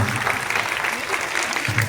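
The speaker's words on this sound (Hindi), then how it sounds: "और एक बार बच्चों फिर से अपने शिक्षकों के लिए, प्रिंसिपल साहब के लिए क्लैपिंग करिए, ताली बजाइए।" Schoolchildren clap for their teachers and principal at an Independence Day school event, a dense, steady burst of applause from a crowd, fairly loud and continuous throughout.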